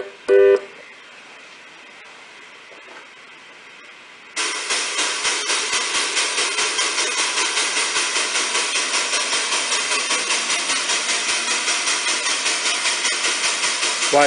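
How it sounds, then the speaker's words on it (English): An N scale model steam locomotive's rhythmic chuffing hiss starts abruptly after a quiet stretch, repeating steadily and evenly for several seconds. "it switches between the sound of steam and diesel. And let's run a steam engine"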